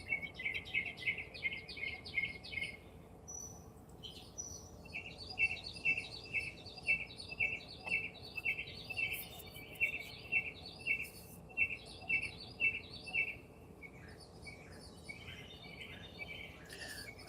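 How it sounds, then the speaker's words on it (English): Birds sing outdoors in the morning, a bright chorus of repeated chirping phrases in steady rhythmic bursts, fairly close and clear over a soft constant background hum, with no talking. "The birds are nice and loud today"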